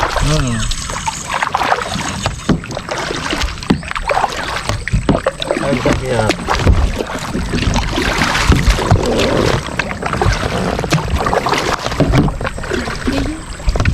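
A small boat moves across water through a mangrove area in Marigondon, Pio Duran, with splashing and rowing noises throughout and people talking and calling out over it.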